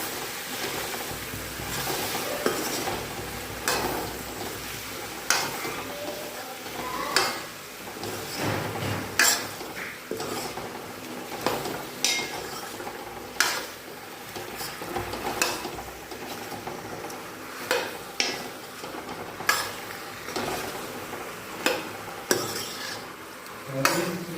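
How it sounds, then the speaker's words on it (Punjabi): Chopped vegetables stirred into masala in a pan, repeated scraping and knocking of a metal spoon against the cookware at an uneven rhythm over a low sizzle, close by and with no talking. "ਤੇ ਇਹਨਾਂ ਨੂੰ ਹਿਲਾਉਂਗੇ ਜੀ ਸਾਰਾ ਨੂੰ ਟੇਸਟ ਮਸਾਲਾ ਮਿਕਸ ਕਰੂੰਗੇ ਜੀ"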